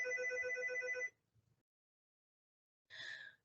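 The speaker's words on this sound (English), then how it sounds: "Sorry about my phone." A phone's electronic ringtone plays a loud rising melodic pattern for about a second, falls quiet, then chimes again briefly, set in a room during a youth advocacy event presentation.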